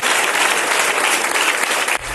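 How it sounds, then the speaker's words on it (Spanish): Loud, dense applause fills a party committee meeting hall, a steady roar of many clapping hands that cuts off abruptly near the end. "Medidas que todos han aplaudido"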